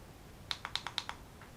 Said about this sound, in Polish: Trzy kliknięcia i waporyzator jest wyłączony.